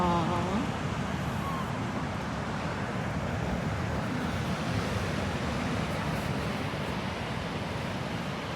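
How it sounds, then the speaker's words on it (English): Wind and surf at Sunshine Beach, Australia form a steady, broad roar of breaking waves and gusting air that stays even and fairly close throughout, with no talk. "You're at the beach. At the Sunshine. beach."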